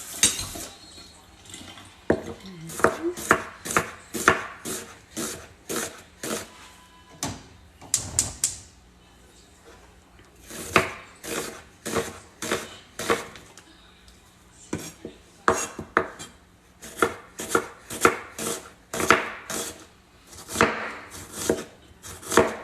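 A knife slices vegetables on a cutting board for a Mexican meatball soup, crisp sharp chops coming in quick bursts of rapid strokes separated by short pauses, fairly close and clear with no talking.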